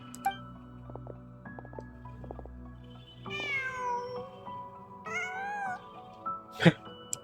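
A cat meows twice in Genshin Impact, drawn-out, rising cries close by, standing out over soft ambient game music with small drips and clicks, then a sharp pop near the end.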